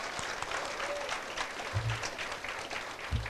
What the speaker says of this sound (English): I want to give Rob Hempenstall a great big round of applause